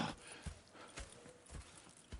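Horses in the Red Dead Redemption 2 video game clop along in a steady rhythm of hoofbeats at moderate distance, with a brief whinny near the end.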